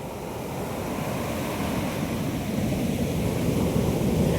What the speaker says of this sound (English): And this is the beach,